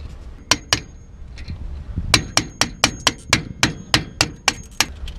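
A nylon bushing being hammered out of a camper's suspension: sharp metallic hammer strikes ring out close and loud, two blows, a pause, then a fast steady run of about a dozen evenly spaced hits.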